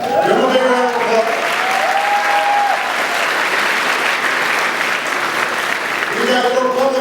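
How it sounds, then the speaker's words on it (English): A large crowd at a presidential event in Brooklyn applauds loudly for a congressional delegation, a dense continuous roar of clapping with cheering voices rising at the start and end. "Give them a big round of applause."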